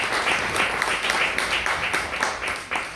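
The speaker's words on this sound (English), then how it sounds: "a big applause is needed for Tracy Shannon, for Linda Rodriguez" Audience applause at a Republican women's gathering in Chula Vista, California, a loud continuous patter of many hands clapping with rhythmic pulses, close and filling the room.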